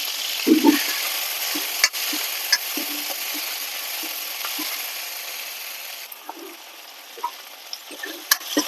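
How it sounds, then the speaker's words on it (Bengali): Salted, turmeric-rubbed prawns frying lightly in a pan, a steady close sizzle punctuated by sharp spatula taps and scrapes, no one speaking. "চিংড়ি মাছটা ভেজে নেব, বেশি ভাজবো না, অল্প করে ভেজে নেব"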